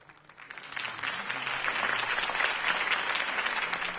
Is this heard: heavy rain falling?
no